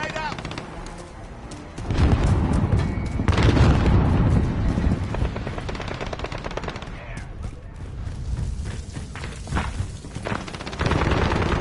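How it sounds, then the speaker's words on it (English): A grenade blast and gunfire ring out in a Modern Warfare team deathmatch, a heavy boom followed by dense, continuous rattling shots and rumbling impacts. Game voices call out over the battle. "Grenade out!"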